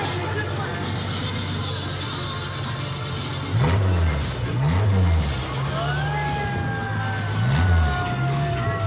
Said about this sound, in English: And coming in behind the rail buggies. This is a motorcade of them.